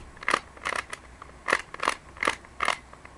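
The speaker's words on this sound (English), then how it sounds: "turn the Skewb like this and do R prime" A Skewb puzzle being twisted by hand, giving about five sharp plastic clicks and clacks in an irregular rhythm, close and fairly quiet with no talking.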